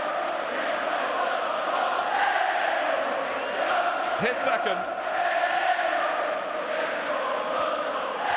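Large football stadium crowd of nearly 44,000 at a Liverpool v Spurs match roaring after a goal, a sustained dense cheer with a few whistles, under a commentator's voice.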